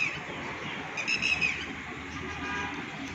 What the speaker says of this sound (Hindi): शहर में है लेकिन इसके बावजूद यहाँ परिंदों की बहुताब है, उनकी आवाज़ें, चहचहाट है।